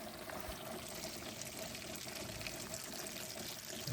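Steady rushing and trickling of water draining out of a shed, continuous and fairly close, with no voices.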